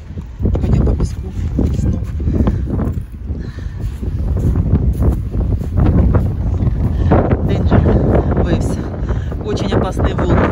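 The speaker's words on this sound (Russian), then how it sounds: "Ничего, наверное, не слышно, потому что очень сильный ветер." Strong wind buffets the microphone in a steady, low roar throughout, with faint muffled voices underneath, on a sandy beach with dangerous waves.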